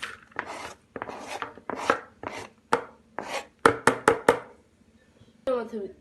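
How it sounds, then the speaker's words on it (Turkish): A knife chops peppers sharply on a board in quick uneven bursts, a dozen or so close, crisp thuds with short pauses between. "biberlerimizi ufak ufak doğrayıp onları da içine ekliyoruz"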